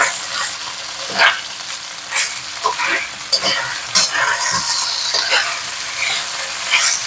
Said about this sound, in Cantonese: 我哋盡量開最猛嘅火去煎啲排骨。